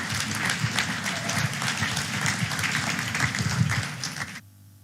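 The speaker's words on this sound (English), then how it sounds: "let's give a big round of applause" A conference audience at a Polkadot Decoded event claps for its panelists, sustained dense applause that carries on for several seconds and then cuts off suddenly into near silence.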